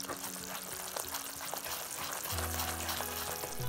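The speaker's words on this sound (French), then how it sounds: "Au bout de 2 minutes environ, ça commence à bouillir." Sugar syrup bubbles and sizzles steadily in a pan while cooking for Chinese sesame nougat, a continuous close frying-like hiss with a low hum joining partway through.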